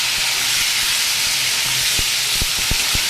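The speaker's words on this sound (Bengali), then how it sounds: "কড়াইয়ে তেল গরম করে 5 ফোড়ন, জিরে, কালো জিরে দিয়েছি। এবার মেখে রাখা সবজি এগুলোকে আমি দিয়ে দিলাম।" Marinated vegetables (bottle gourd stems, potato and pointed gourd) dropped into a hot wok of oil with five-spice, cumin and nigella, sizzling in a loud steady hiss with a few sharp spits and pops, no talking.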